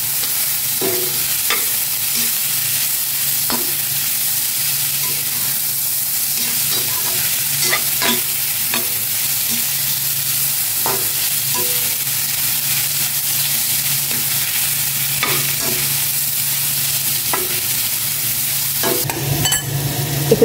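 Garlic sautéing in a hot pan, a steady close sizzle with repeated scraping stirs of a utensil at irregular intervals.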